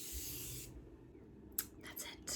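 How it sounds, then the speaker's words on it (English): Morphe setting spray misted onto a face, a close hiss at the start followed by a few short quick spritzes. "I recently just purchased the Morphe setting spray"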